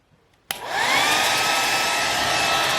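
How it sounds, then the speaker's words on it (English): A hot air dryer switches on with a sudden click and blows steadily onto a handmade banana topwater lure, a loud, constant whooshing hiss with a faint rising whine, after a near-silent start. "Take the air dryer, I'm gonna hit it with some hot air."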